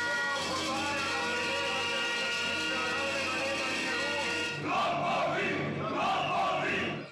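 Protesters shout in a crowded town hall lobby in Maribor as police arrive, a loud, dense wall of massed voices that rises into rhythmic chanting bursts toward the end.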